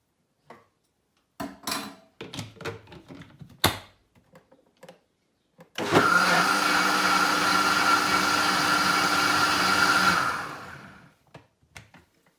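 A small whisk stirs a fermented food mixture sweetened with honey, a dense scraping, clattering rattle lasting about four seconds after scattered clinks and taps.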